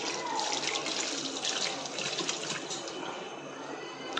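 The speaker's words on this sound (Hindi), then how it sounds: "हाथ धोई दबा" Hands being washed under running tap water, a steady, close, fairly loud splashing rush that continues unbroken throughout, with no speech.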